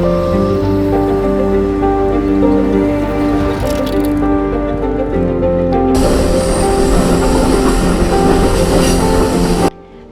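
Rail cars roll steadily along the track, a loud, continuous rumble with tonal hums and rattling that thickens midway and then cuts off abruptly near the end.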